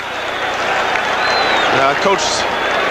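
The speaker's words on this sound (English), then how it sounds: "this giant crowd has suddenly become revved up" A giant stadium crowd at a 1980 Dallas Cowboys versus New York Giants football game cheers in a dense, continuous roar. An announcer's voice carries over the top throughout.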